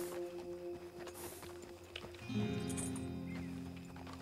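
Horse walking beside its rider in the Western game Red Dead Online, hooves clip-clopping in an uneven stepping rhythm over game ambience, moderately close and growing busier partway through.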